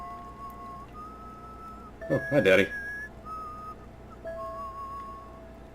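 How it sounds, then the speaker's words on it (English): A man whistles a slow, wavering tune in steady tones in the video game Enderal, with a brief spoken greeting breaking in midway over a quiet game background. "And Daddy's whistling."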